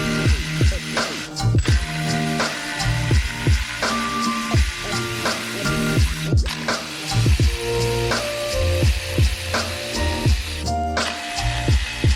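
A ratchet wrench works on the 13 mm torque converter cover bolts of a BMW E30 during a manual gearbox swap, making rapid repeated metallic clicking in bursts with short pauses, close and fairly loud.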